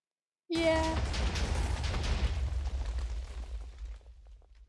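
A bomb goes off in a Minecraft minesweeper game: one sudden loud boom that rolls into a long rumbling decay, with a short tonal blip at its start.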